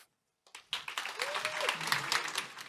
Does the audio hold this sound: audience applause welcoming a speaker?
yes